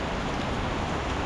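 Steady, dense rain on a mountain hike in the Tatra mountains, an even hiss of falling drops filling the whole moment at close range, with no voices.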